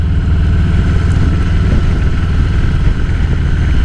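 A 2022 Harley-Davidson Heritage with a 114 engine rides along, giving a loud, continuous low engine rumble with road and wind noise and no pauses, no talking.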